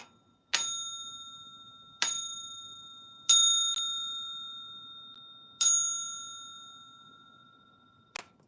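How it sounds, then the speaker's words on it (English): A bell is struck five times at uneven intervals, each bright ring hanging and fading slowly, clear and alone in a quiet room. "About to ring the bell real quick."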